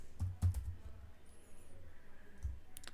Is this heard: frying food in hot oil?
no